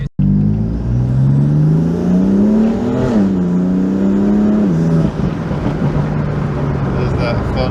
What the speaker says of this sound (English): There's that fun wheel spin.